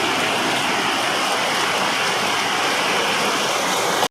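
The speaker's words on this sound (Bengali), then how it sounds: "ভীষণ বৃষ্টি হচ্ছে একদম অন্ধকার করে এসেছে" Heavy rain pouring down, a loud, dense, unbroken roar of falling water that holds steady throughout.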